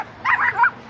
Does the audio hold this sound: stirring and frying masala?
no